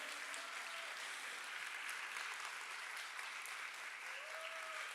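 Steady applause from an audience at a literature panel at FLISOL 2024, a dense, even patter of clapping that carries on throughout.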